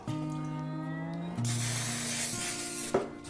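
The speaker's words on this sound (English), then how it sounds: "Spray it up." A short burst of cooking spray hisses onto a pan close by for about a second and a half, over a steady background hum.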